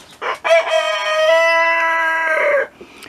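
A rooster crows one long, loud, drawn-out call close by, with brief clucks and bird noises just before and after. The flock is an Australian-origin breed of backyard chickens.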